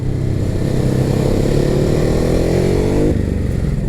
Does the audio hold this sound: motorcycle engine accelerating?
yes